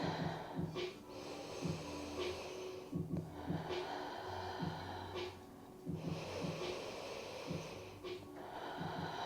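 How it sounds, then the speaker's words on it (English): Slow, deep breaths held in a yoga puppy pose, drawn in and out in a steady rhythm against a faint background hiss, with a few nasal, snort-like exhales and no talking. "Take 3 more deep breaths."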